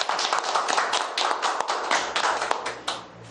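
Lecture audience applauding, a dense burst of many hands clapping fairly close and loud, thinning slightly toward the end.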